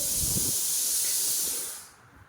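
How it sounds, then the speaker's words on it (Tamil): Mustard seeds, fenugreek, cumin and black pepper splutter in hot sesame oil for a dried-fish thokku, giving a loud, steady, close sizzling hiss that fades out near the end. "இப்போ இது எல்லாமே நல்லா பொரிஞ்சிடணும்"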